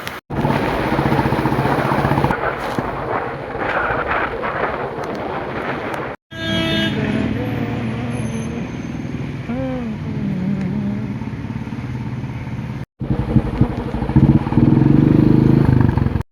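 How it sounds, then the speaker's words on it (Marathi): A Royal Enfield Bullet motorcycle rides through a road traffic jam, its engine rumbling close and continuous amid surrounding traffic noise, with horns honking and brief breaks in the sound. "याला चालवायची बुलेट आणि असा रोड कोंडी आलेला आहे आज."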